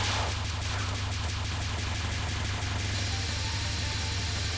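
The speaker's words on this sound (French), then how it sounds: "je vais claquer la bombe pour récupérer les powers" An in-game bomb going off to clear the screen and collect power-ups, heard as a dense, sustained barrage of rapid explosive bursts with a heavy low rumble that stays loud and steady throughout.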